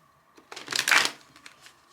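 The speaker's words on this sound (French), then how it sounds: "j'arrive plus à mélanger les cartes, c'est terrible" A deck of tarot cards is shuffled by hand in a short burst of riffling and flapping, loudest in the middle, then trailing off into a few soft taps.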